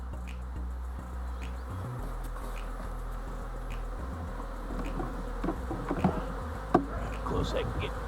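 Honey bees buzzing around outdoor beehives, a dense continuous drone of many insects close by, with small knocks and bumps from hive handling and no speech.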